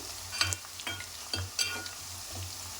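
Onions frying in a pan for brinjal curry, giving a steady close sizzle broken by a few short scraping stirs of a spatula.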